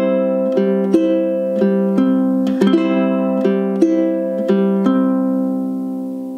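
Ukulele fingerpicking pattern for a love-song cover, played at full song tempo: clear plucked notes in a steady repeating rhythm, close and bright, each pluck ringing out alone with no voices.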